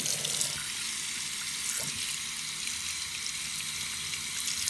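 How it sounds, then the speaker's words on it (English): Tap water runs steadily from a faucet into a sink while a soft mochi squishy toy is rinsed, a continuous close hiss and splash with no talking. "we're just gonna turn the water on and rinse this one off"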